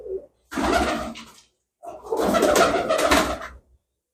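Pigeons in a loft give two loud, close bursts of throaty cooing and rustling, separated by a short silence.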